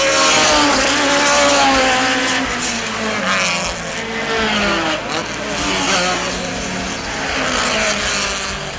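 A field of eighteen Group 2 race cars, including a 2-litre entry, roars down the front straight at Dover, Jamaica, with loud overlapping engine revs and gear changes while a commentator talks over the noise.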